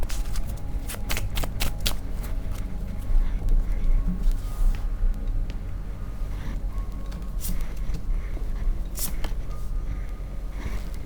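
Tarot cards are shuffled by hand in a run of crisp riffles and soft slaps that repeat irregularly, close and fairly loud, with no talk over them.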